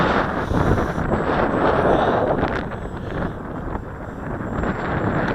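Gusty wind on a windy hilltop where model aircraft are flown, a loud, steady roar of wind buffeting the microphone that swells and eases across the clip, with no voices.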